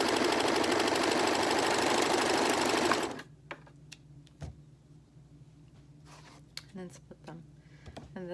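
Sewing machine stitching fabric pieces for a three-layer pocket face mask, a steady rapid whir running for about three seconds, then stopping to leave faint clicks and small handling noises.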